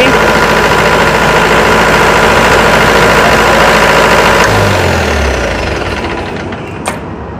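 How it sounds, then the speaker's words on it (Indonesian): A car engine runs steadily and loud, a dense continuous rumble while an oil pressure switch is being tested, then the engine is switched off and winds down to near silence, with a brief click near the end. "Kita coba hidupkan engine-nya ya."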